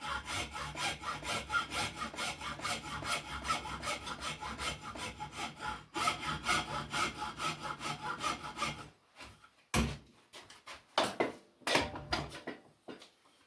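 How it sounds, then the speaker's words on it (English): A hacksaw cutting wood for a handmade chair, with rapid steady rasping strokes for about nine seconds, then a few separate short strokes and knocks, close up and with no talk. "I go around that piece with that hacksaw, and I cut that in"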